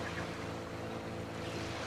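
Steady low engine drone of a motor launch or canoe travelling on a Peruvian jungle river, with faint water wash, continuous and fairly quiet throughout, no voices.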